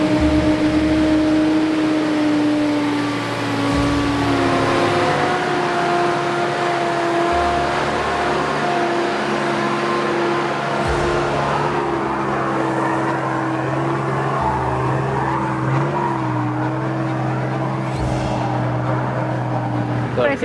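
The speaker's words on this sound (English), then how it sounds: "So I'm driving Flats track on my own this afternoon" A 4WD towing a caravan climbs a steep 400-metre off-road track with deep ruts, holes and rocks, its engine droning loud and steady throughout with low rumbling bumps and tonal whine, no talk.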